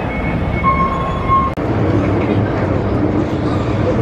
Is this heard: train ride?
yes